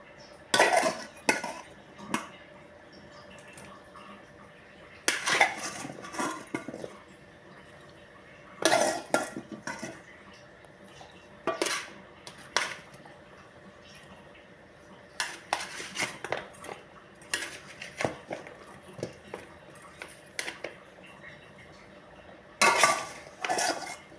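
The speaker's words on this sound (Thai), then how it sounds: "แล้วก็มันฝรั่งใส่ไปก่อนนะคะ แล้วก็แครอทสามารถใส่ต่อได้เลยค่ะ" Potatoes and carrots are added to a pot for chicken soup, with intermittent clanks and clinks of utensils and cookware in clustered bursts separated by quiet gaps, close and moderately loud.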